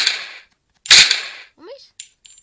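Gunshots in a video game: two sharp, loud bursts about half a second apart, followed by quieter chirps and clicks and a faint voice.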